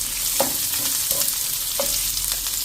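A medium onion and two chopped green chillies frying in hot oil make a loud, continuous sizzle, with a few soft clinks of stirring over it.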